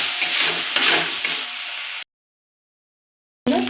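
Chicken pieces for cutlets fry in a pan over a medium flame, giving a loud, crackling sizzle with stirring scrapes that cuts off abruptly into silence before a brief clatter.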